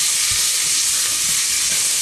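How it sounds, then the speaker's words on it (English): Vegetables fry in a pan, a steady loud sizzle with soft thumps and scrapes as they are stirred around, close and without talk. "Then just keep stirring them round in the pan."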